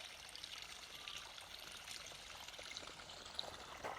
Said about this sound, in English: Little creeks running into the river.